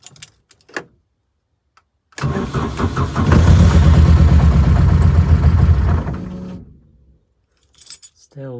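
A mk1 Vauxhall Cavalier C20XE engine cranks and fires after a few clicks, running loud and uneven for about four seconds before dying away, with faint clicks before and after.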